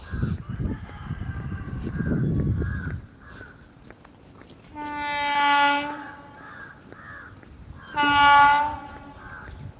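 A train sounds its horn twice in long, loud blasts, rumbling low at first, while crows caw now and then.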